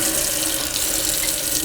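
Tap water pours steadily into a sample container for a hardness test, a close, continuous hissing splash with no voices.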